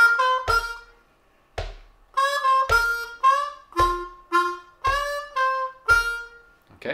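Slow blues lick on an Eb harmonica, a series of separate breathy reed notes with short gaps between them, close and fairly loud with no voices.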